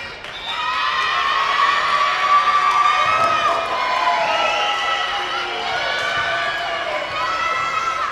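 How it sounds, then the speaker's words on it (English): The St. Francis bench at a college volleyball match erupts in sustained, loud high-pitched cheering and shouting that continues for several seconds in an indoor gym. "A huge cheer from the St. Francis bench"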